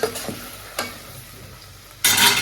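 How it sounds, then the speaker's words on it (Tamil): A ground spice paste fries in a pan with a soft sizzle and a few sharp spattering pops. A louder hiss bursts out near the end, and no one speaks. "நம்ம அரைச்சி வச்சிருக்கிற இந்த இதை வந்து தெரிக்குது"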